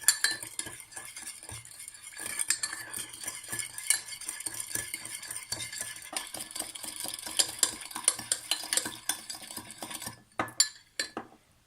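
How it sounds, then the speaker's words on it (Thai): A spoon stirs a mixed vegan sushi sauce of mango and avocado in a bowl, making repeated soft scraping and clinking against the dish, fairly quiet. A few sharper taps come near the end. "ส่วนผสมนะคะที่เรา ได้ผสมไว้แล้วนะคะคนอีกสักรอบนะคะ"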